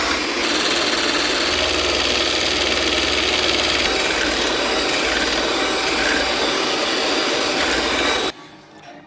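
An electric mixer whips heavy cream with sugar and lemon juice, a steady loud whirring drone that runs unbroken for about eight seconds, then cuts off.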